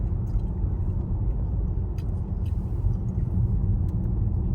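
A car drives along a road, heard from inside the cabin as a steady low rumble of engine and tyres that holds even throughout with no speech.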